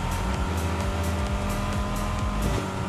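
A car engine in the Rocket Racing video game drones steadily and loudly with a constant high whine and rumble, no voices over it.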